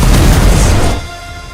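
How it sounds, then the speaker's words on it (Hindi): The Basilica, a giant cannon, fires in one huge booming blast that rumbles on for about a second and then falls away into quiet. "दुनिया की सबसे बड़ी तोप बनाई।"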